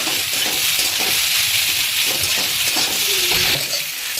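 Indian-style pasta frying in sauce in a pan, a loud, dense, continuous sizzle up close with faint stirring underneath.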